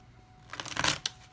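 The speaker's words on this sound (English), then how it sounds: "I'm going to shuffle 2 more times as I'm being guided to." A deck of tarot cards being riffled and shuffled, a short burst of papery flicking that builds and ends with a final snap, close and fairly quiet.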